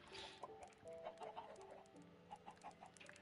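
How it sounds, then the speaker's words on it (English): Chickens on a Minecraft chicken farm cluck in scattered bursts, soft and close, with no one speaking. "This chicken farm is horrible."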